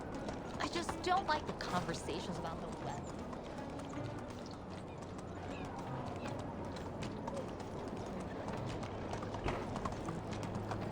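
Horse hooves clip-clop in Medieval Dynasty as a horse trots steadily, rhythmic thuds under continuous game ambience, with someone talking over it at times.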